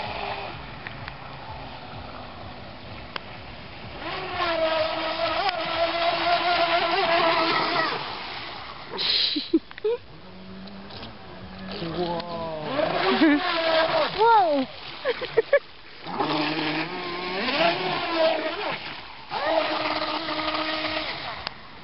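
A passing motorboat's wake splashes and slaps against a Blackjack 26 boat at speed, with rushing water and engine drone rising and falling, and voices talking over it.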